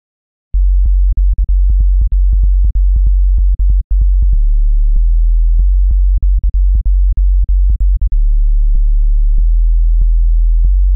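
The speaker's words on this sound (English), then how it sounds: "Now we have our sub bass for our bass line" A deep synthesized sub bass line pulses in a steady rhythmic pattern of short and sustained low notes, loud and alone.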